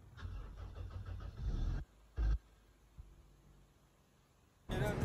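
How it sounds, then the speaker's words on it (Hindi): A car engine cold start on a hot day in Karachi: a loud burst of cranking and revving, a brief sharp roar, then a quieter settling idle before another loud surge at the end. "Cold start."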